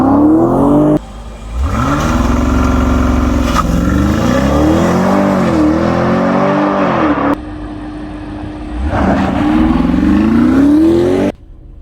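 A 2021 BMW X6 M50i engine revs hard and loud in launch control, its pitch climbing and dipping through several surges, then dropping off briefly before roaring up again near the end.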